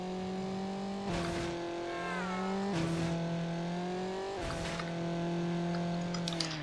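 A Honda Civic's engine drones steadily while racing in Need For Speed Underground, its pitch climbing and then dropping at three gear shifts, heard alone at a moderate, even level.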